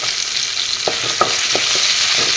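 Fish pieces frying in a pan of oil give a loud, constant hissing sizzle, broken by a few soft scraping stirs close by, with no voices.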